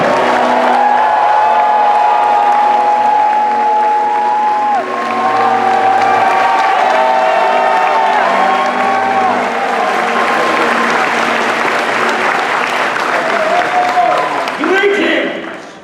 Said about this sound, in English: welcome to the stage with appropriate thunderous applause